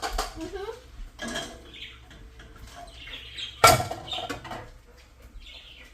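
A spoon scrapes and clinks against a bowl while wet cooked quinoa is mixed with ground turkey and zucchini casserole ingredients. The stirring is intermittent, with one sharp clank partway through.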